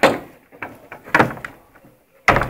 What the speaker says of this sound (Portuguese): Abre a porta do burro aqui já.